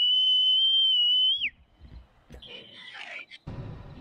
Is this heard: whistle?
yes